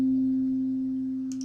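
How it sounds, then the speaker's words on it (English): A single pure sine wave tone, a steady, unwavering hum held evenly throughout with no added overtones, slowly fading slightly in level. "what you're going to be hearing is a sine wave"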